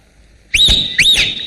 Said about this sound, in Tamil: இவன் என்னன்னா விசில் அடிக்கிறா?